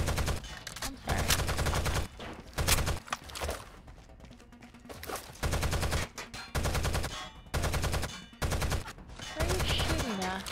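Machine-gun fire in the video game Rainbow Six Vegas 2 rattles in loud, rapid bursts separated by short pauses, with faint game ambience and a little background voice between volleys.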